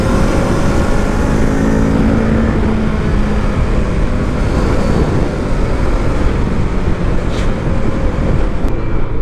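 A 2024 Kawasaki Ninja 650 motorcycle engine accelerates with a loud, steady, dense roar that carries through the whole stretch, mixed with wind buffeting.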